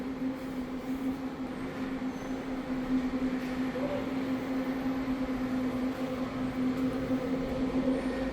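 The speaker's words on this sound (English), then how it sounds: "this is the train station" The concourse of a train station in Ireland carries a continuous rumbling rail ambience with a steady low mechanical hum and faint distant activity, remaining even and moderately loud throughout.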